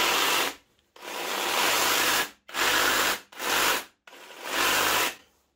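Parkside cordless reciprocating saw running in five separate bursts of a second or so each, with short silent gaps between them; a loud, steady buzzing whine close by, with no voices.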